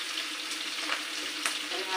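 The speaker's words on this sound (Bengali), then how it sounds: "দিয়ে দেবো মাছটা একেবারে দিয়ে না, তার জন্য দুইবার দিয়ে মাছটা ভাজা দেবো" Small chela fish shallow-frying in hot oil give off a steady, close-up sizzle with fine crackling hiss throughout and a couple of brief pops, with no talking over it.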